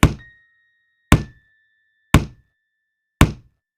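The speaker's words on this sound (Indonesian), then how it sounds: "Suara Topan menendang-nendang tembok" Four evenly spaced dull thuds about a second apart, like feet kicking a wall that divides two rooms, each a sharp thump with a short decay, fairly close and alone with no talking.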